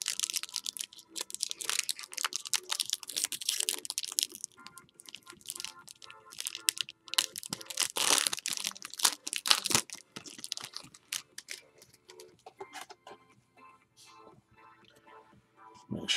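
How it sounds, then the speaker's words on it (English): Foil wrapper of a 2021 Topps Series 1 baseball card pack being torn and crinkled open, close and crisp, with bursts of rustling and crunching throughout and quieter handling of the cards toward the end, no talking. "I'll open the 70th anniversary patch cards"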